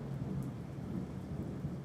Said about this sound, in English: A huge thunderstorm continues throughout the whole night.